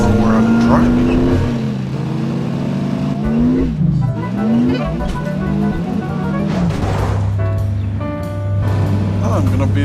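A car engine in a WWII-era open-world driving game revs and shifts pitch continuously, rising and falling through gear changes with occasional tire squeal. Someone talks steadily over the engine noise.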